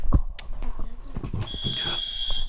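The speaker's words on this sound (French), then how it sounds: "il faut que tu appuies sur le buzzer" Game-show buzzer pressed during a French radio quiz, a single steady electronic tone that starts partway through and holds to the end, mixed with chatter and clatter in the studio.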